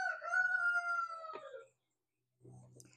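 Backyard rooster crows once, loud and close, with a long drawn-out call, followed after a short pause by a brief burst of hen clucking.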